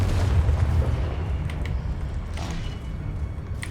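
A Confringo fire-spell blast in Hogwarts Legacy: a deep, loud boom at the start that decays into a rumbling tail, followed by a few faint magical chimes.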